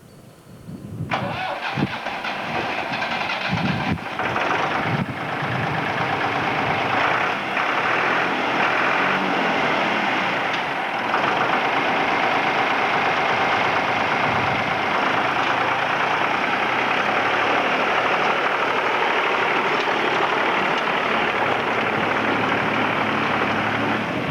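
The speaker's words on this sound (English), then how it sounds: "We then have to start the little tractor" A small farm tractor engine cranks and catches, then settles into a steady, loud running rumble that continues for the rest of the clip.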